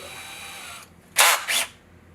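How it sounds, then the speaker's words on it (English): A drill driver fitted with a 1/4 inch bit drills holes, giving two short, loud whirring bursts after a stretch of quieter background noise. "1/4 inch bit and a drill driver."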